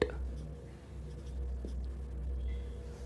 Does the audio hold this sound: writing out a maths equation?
yes